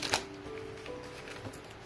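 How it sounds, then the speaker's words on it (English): Tarot cards are shuffled by hand in a few quick riffling bursts with soft papery flicks between them, close and fairly quiet. "Let me just finish shuffling."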